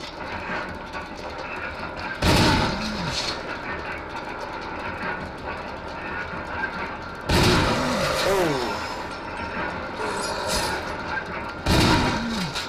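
Three loud shotgun blasts in the video game Resident Evil HD, each a sharp boom with ringing decay, spaced several seconds apart over background game sound.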